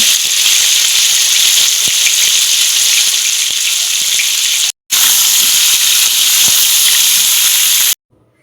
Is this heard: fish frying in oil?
yes